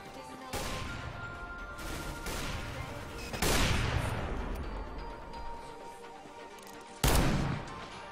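Counter-Strike gunfire in competitive play: four sharp, loud shots spaced a few seconds apart, each followed by a decaying rumble.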